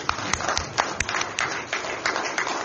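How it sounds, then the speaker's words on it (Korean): A church gathering claps in thanks for the pastor and host church, a dense, moderately distant ripple of many hands that stays even and fairly quiet throughout. "우리 박수 쳐주십시오"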